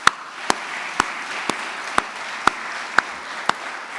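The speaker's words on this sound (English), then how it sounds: "Let's give them one more round of applause." An audience at a university alumni awards ceremony applauds in a steady, even wash of clapping that lasts throughout, with sharp, regular ticks recurring about twice a second.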